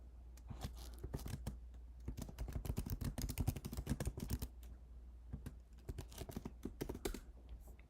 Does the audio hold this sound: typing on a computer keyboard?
yes